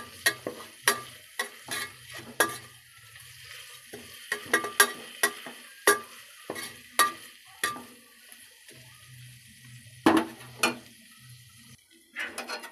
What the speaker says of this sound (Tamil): இப்போது நல்லா கிளறி விடுங்க பச்சை வாடையெல்லாம் கொஞ்சம் போகணும்